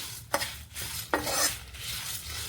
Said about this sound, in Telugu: ఇవన్నీ వేగాక కొబ్బరి వేసి ఒకసారి వేగిద్దామండి.